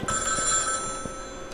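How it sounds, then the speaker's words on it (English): A telephone rings inside the horror video game iBLiS, a steady electronic bell tone held for under two seconds, fairly close and clear with no talking over it. "the phone is ringing."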